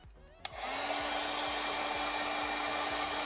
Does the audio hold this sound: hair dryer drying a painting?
yes